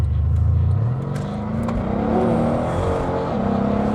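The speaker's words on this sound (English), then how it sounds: "Listen to that exhaust now." A Mercedes-Benz E63 AMG S engine revs loudly nearby, its exhaust note rising and falling in pitch across several seconds with no talking.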